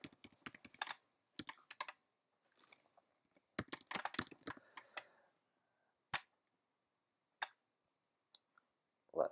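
Keys clatter on a computer keyboard as a folder name is typed, a close, dry burst of quick clicks, then a pause and a second burst, with a few isolated taps after.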